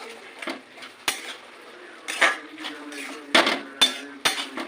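A spoon stirs a thick banana-flower and prawn curry in a pot after ghee is added, giving irregular metallic clanks and scrapes against the pot, close and fairly loud, with quiet gaps between strokes.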